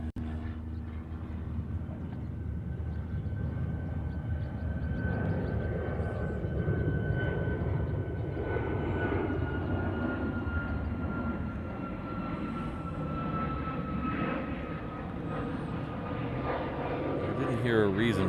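A Southwest airliner landing at Honolulu airport, its jet engine roar a steady broad rumble with a slowly falling whine that builds and holds throughout, heard from a distance outdoors.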